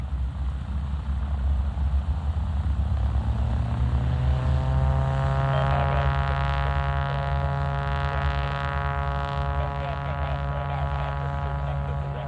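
Cessna 185 light aircraft taking off, its loud droning engine and propeller rising steadily in pitch and power as it accelerates, continuous and close throughout with no talk.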